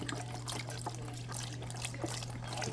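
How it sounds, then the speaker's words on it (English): Chicken stock trickles and splashes into a container of boil-in-bag rice, a faint, steady pouring sound with soft drips and a low electrical hum beneath it. "I'm going to go ahead and add some chicken stock to the rice."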